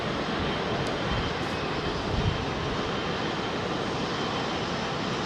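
Toronto-bound jet airliner climbing out after departure from Heathrow, a broad steady engine roar at moderate distance that holds evenly for several seconds with no talking.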